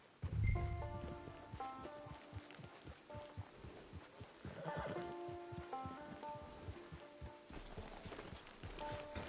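Hoofbeats of a horse in the video game Red Dead Redemption clip-clop at a walking pace beneath soft ambient music and faint rustling, the steps moderately quiet and unhurried.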